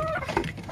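Native crossbreed hens cluck in a short, close burst, a soft throaty call standing out briefly over the yard.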